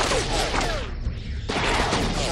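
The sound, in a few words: gunfire in a video game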